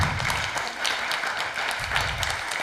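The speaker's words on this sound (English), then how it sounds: "let's give Mother Draupadi a big round of applause" An audience applauds inside the ISKCON Dallas temple, a steady crackle of many hands clapping that holds evenly throughout.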